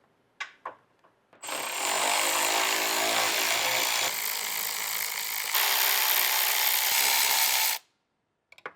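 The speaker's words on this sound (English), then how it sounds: "let's go ahead and take out those 4 bolts" A power tool on a long extension backs out the 10mm bumper bracket bolts on a Toyota Tacoma, a few clicks before one loud, continuous whirring run of about six seconds that steps up in pitch partway, then stops abruptly.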